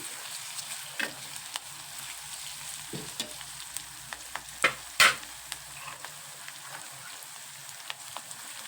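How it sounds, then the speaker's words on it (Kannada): Onion and capsicum frying in a little oil, a soft steady sizzle broken by a few louder stirring clatters near the middle, with no talk. "ಇದನ್ನು ಸ್ವಲ್ಪ ಫ್ರೈ ಮಾಡ್ತೀವಿ"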